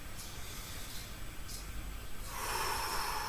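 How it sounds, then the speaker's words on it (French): A breath drawn in during a gentle seated exercise class, a close, airy hiss that swells in the last second over steady background noise, with a couple of faint short puffs earlier. "J'inspire."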